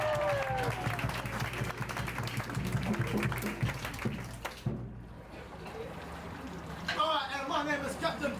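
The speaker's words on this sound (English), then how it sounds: "Please, ladies and gentlemen, round of applause for Captain Baywatch." A tour group on a lagoon cruise boat in Rarotonga claps briefly amid boat and water noise, with voices talking over and after the applause.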